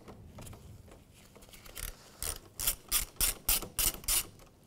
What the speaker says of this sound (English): We're going to do that with a 10 millimeter socket.